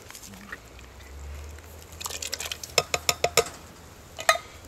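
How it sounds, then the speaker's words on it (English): Beans tipped into a simmering pot of smoky beer chili over a fireside: a soft muffled pour followed by a run of sharp clinks and taps against the pot, close and clear, with no talking. "So we're going to go ahead and add our beans."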